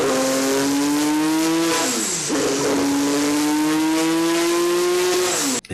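A turbocharged Porsche 911 flat-six engine, an RWB build, revs loudly up close, its pitch climbing, dropping briefly, then rising again in a long sustained pull.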